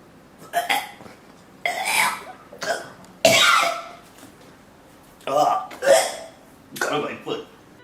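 A man gags and coughs after handling a strange, nasty pepper: a run of loud, harsh retching coughs in separate bursts, with voices mixed in among them.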